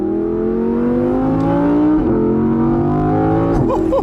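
A 2018 Audi R8 RWS engine revs hard and close, pitch climbing steadily, dipping briefly at a shift, then climbing again before a sharp drop and crackle at the end, with no voices over it.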